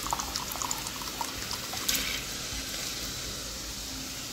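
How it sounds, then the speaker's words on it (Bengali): Black lentils are tipped into a pot of nearly boiling water, giving a soft pouring rush and a few splashes over the faint bubbling of the water, then fading to a quiet simmer. "এখন ওই ব্ল্যাক ডাল পুরোটা এর মধ্যে ঢেলে দেবো আমি"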